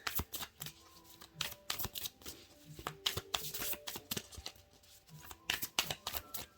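Tarot cards are shuffled in rapid, irregular riffling bursts and taps throughout, crisp and close, with faint tonal background underneath and no talking.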